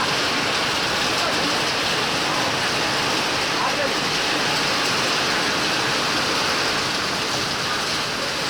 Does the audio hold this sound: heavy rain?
yes